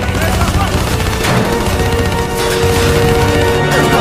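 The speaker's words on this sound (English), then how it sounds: "Give me some cover fire." Dense gunfire in Call of Duty: Black Ops III, loud overlapping bursts and rapid shots with booms in a continuous barrage of combat, voices shouting underneath.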